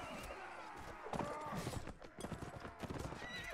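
Horse hooves clip-clop and a horse whinnies in the video game Mount & Blade: Warband, with galloping beats and a neigh over busy battle noise while someone talks.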